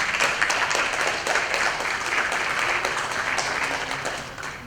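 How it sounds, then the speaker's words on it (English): Audience at a school band and jazz band concert applauding steadily, a dense wash of many hands clapping in a hall that carries on for several seconds before slowly thinning out. "Can we give them a round of applause"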